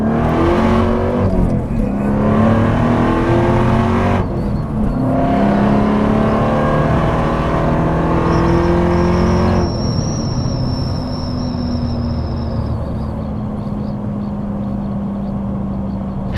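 A Dodge Challenger and a Ford Mustang rev and accelerate hard in a street race, engines climbing through gears with loud, close roaring and tonal whine before easing into a steady drone.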